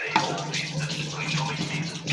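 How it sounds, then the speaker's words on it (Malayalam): Rice poured into a pot of boiling water for biryani-style rice, a steady rushing, splashing pour heard up close with a low hum underneath. "ഇനി അരി ഇടുന്നുണ്ട്."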